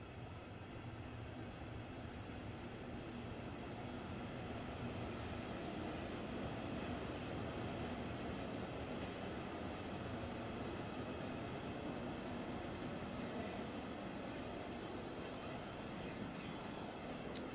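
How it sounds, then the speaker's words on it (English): A diesel train in Train Sim World 3 runs with a steady, faint low rumble and rail noise that hold evenly throughout, with no talk. "I love the sight of this diesel train"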